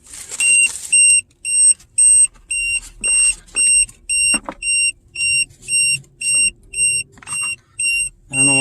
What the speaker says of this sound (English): I don't know why it's beeping